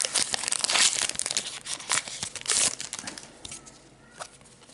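A Pokémon Ombres Ardentes booster pack ripped open up close, giving loud crinkling foil and tearing noises that gradually taper into softer rustling, with no voice.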